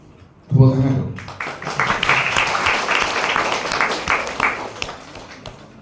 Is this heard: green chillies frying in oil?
no